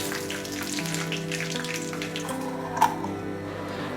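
Black cumin seeds and dried red chilies tempering in hot mustard oil, made while cooking pabda fish in mustard sauce: a steady, close sizzle and crackle with one brief louder pop near the end, and no voices.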